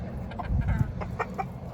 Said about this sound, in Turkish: Çok güzel süs tavuklar var.